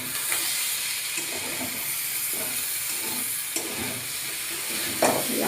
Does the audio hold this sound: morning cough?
no